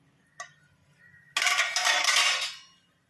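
Mustard and fenugreek seeds splutter in hot sesame oil in a pan: a single small tick, then a loud, dense burst of crackling sizzle that fades out after about a second.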